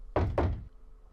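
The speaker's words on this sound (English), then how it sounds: "A violent knocking resounded throughout the room." Two heavy, hollow knocks strike a wooden door in close succession, loud and near, followed by a short fading room tail with no voices.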